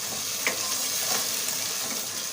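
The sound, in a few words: stirring masala into chicken in a frying pan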